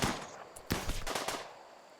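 Rapid bursts of automatic gunfire from a video game shooter scatter in quick rattling volleys, moderately faint, with no talking over them.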